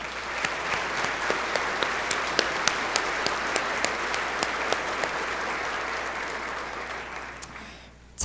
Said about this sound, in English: Can we please give an applause for all current and retired members of law enforcement here today?